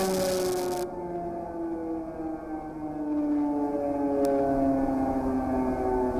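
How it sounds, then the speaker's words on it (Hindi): An air raid alert siren wails over Kyiv, a long rising and falling tone that carries steadily across the city with a distant, open-air quality, under faint background noise. "हवाई हमले के अलर्ट का जो सायरन है वो आप सुन सकते हैं।"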